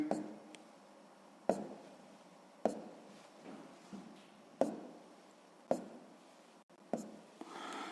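Pen or pencil writing a series of numbers along a number line on squared school paper, heard alone as six or so sharp taps and scratches spaced about a second apart.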